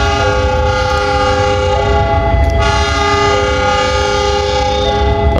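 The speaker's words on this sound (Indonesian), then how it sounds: "Kereta rangkaian untuk kereta api Pasundan yang tadi dilangsir." Pasundan train carriages are shunted at a station, with a loud sustained multi-tone horn blaring over the rumble and creak of rolling railcars nearby.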